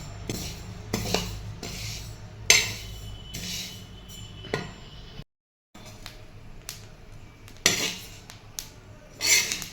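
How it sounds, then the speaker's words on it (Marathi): Dry-roasting a large batch of sesame seeds (one and a half kilos) in an oil-free pan at home: repeated sharp clinks and scrapes of a utensil against metal, irregular and fairly close, with a short silent gap midway. "तर पहिल्यांदा आता तीळ भाजून घेते मी दीड किलो तीळ घेतलेलं आहे"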